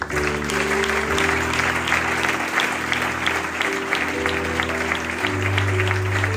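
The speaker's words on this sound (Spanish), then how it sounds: "El mejor aplauso que tengan para él" Church congregation applauding loudly and steadily, a dense sustained clapping that fills the room, with a low musical drone underneath.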